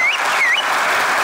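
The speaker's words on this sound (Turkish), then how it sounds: "Seyirci söylesin alkışlarıyla." Studio audience applause fills the room for a dance performance on a Turkish TV competition show, a steady dense clapping wash with a couple of brief whistles riding over it.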